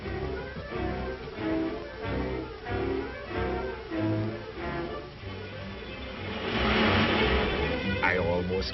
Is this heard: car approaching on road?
yes